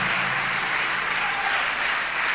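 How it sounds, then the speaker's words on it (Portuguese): A church congregation claps strongly and steadily, a dense, even wash of applause filling the room without pause. "Vamos dar um aplauso ao Senhor bem forte."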